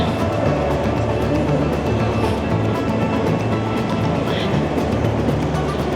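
Continuous low rumbling of an Amtrak train at a Chicago Union Station platform, with faint rail clatter, steady and fairly close, with no clear speech over it.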